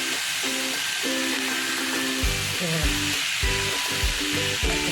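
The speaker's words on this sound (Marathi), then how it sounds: "आता सगळं असं मिक्स करून एक एकजीव करून घेतं पूर्ण सगळं" Taro stalks and dal stirred together in a pan give a steady, close sizzle with repeated scraping strokes. A faint melodic tone runs underneath throughout.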